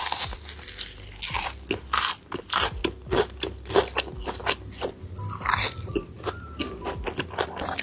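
Crunchy fried tofu bitten and chewed right at the microphone, a run of sharp crackling bites and chomps with wet mastication between them, no talking.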